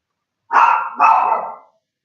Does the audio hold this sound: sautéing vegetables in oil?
no